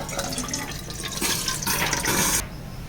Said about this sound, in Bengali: নুডলসটা একটু পানি দিয়ে ধুয়ে নেব। নুডলসটা অবশ্যই পানি দিয়ে একটু ধুতে হবে।